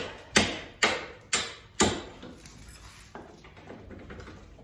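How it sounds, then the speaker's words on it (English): Four sharp metallic hammer strikes ring out at a steady pace, tapping a bolt through a wrecked C5 Corvette's bent suspension, followed by quieter scraping and a faint final knock. "tap that bolt through"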